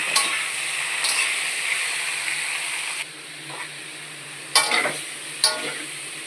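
Food being sautéed and stirred in a wok, with a steady close sizzle and a few sharp scraping strokes of the spoon near the end.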